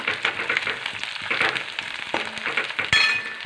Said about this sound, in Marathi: कढीपत्ता टाकलेला आहे तो छान असा परतून घ्यायचा तेलामध्ये